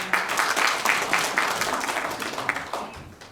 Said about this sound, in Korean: 박수로 맞이해주시면 됩니다